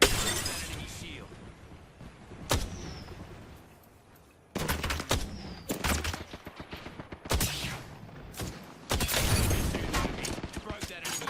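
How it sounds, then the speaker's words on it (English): Enemy shield shattering in a shooter video game, with crisp glassy breaking bursts among rapid gunfire and explosions, loud and repeated. "Broke that enemy shield."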